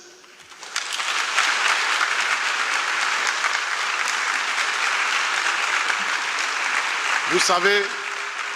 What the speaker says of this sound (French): Je voudrais que nous puissions acclamer les choristes.